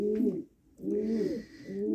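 Horseman pigeons coo in an aviary, three close, clear, throaty coos repeating in a slow rhythm with brief pauses between them, with no voices.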